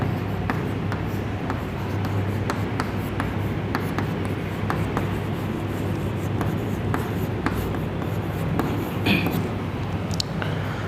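Chalk or marker writing a chemical formula on a classroom board, a steady run of scratchy strokes and taps set against a constant loud background hum.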